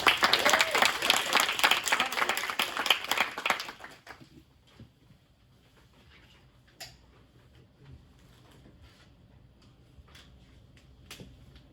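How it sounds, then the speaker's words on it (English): Audience applause for student performers after a stage production, loud and dense for about four seconds before cutting off to a quiet room with scattered soft taps and clicks. "So one more round of applause for them again."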